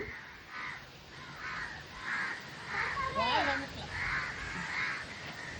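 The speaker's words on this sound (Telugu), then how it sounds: "కాకులు చూడండి ఎలా వచ్చేసినాయో" Crows caw repeatedly around a coconut-breaking ritual, a string of harsh calls in a steady rhythm over faint background chatter, with a voice speaking partway through.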